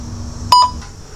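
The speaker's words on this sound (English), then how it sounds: "Please begin speaking after the beep." A single electronic test beep signals the start of a recorded speaking-test response, a short clear tone with a faint echo, alone over quiet background hum.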